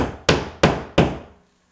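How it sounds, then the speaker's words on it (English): Three sharp hammer blows tapping wall anchors into a wall, evenly spaced and close, each strike ringing briefly before fading into silence. "The next thing that we're going to do is hammer in some wall anchors"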